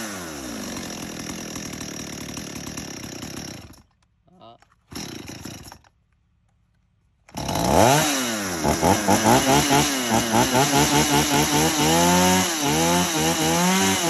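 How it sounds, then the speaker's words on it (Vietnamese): Used Japanese-market chainsaws from a mixed lot (Stihl, Echo Kioritz, Shindaiwa, Makita, Tanaka) fire up for a test run. After brief bursts and a pause, one saw roars to life close by and revs up and down repeatedly. "vừa rồi chúng em đã giật test nổ 10 con máy cơ xích"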